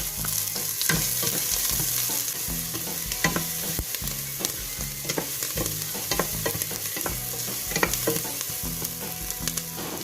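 Onion sizzles in a hot pan while being stirred, with sharp spatula scrapes and clicks at an uneven rhythm over a constant frying hiss, and nobody speaks.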